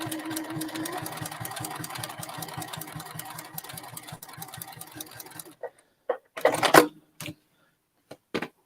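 A sewing machine stitching a quilt runs in a fast, steady mechanical patter for several seconds, then stops, followed by a few sharp clicks and handling noises close by.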